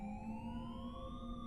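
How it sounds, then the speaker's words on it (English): A siren much like an ambulance's wails close by, a loud sustained tone sliding slowly upward, alone without voices. "the quiet of the afternoon was suddenly broken by the loud blaring of a nearby siren, very similar to that of an ambulance."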